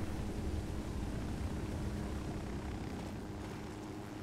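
Steady helicopter rotor and engine drone inside the Ghost Recon Wildlands video game, a continuous broad rumble holding level throughout and easing slightly toward the end, with no talk over it.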